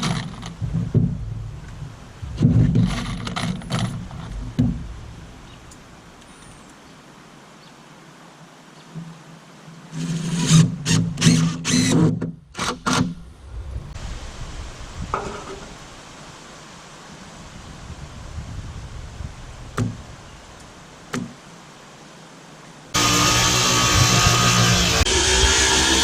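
A deck board is cut in place with a power saw on a no-dig deck build, bursts of loud broadband cutting noise starting and stopping several times, ending in a sustained harsh roar, with no talk.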